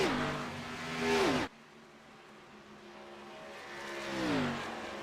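Race cars in the iRacing ARCA Menards Series sim roar past the stripe one after another, engine pitch rising loud then sweeping down as each car flies by, with a near car followed by a second pass.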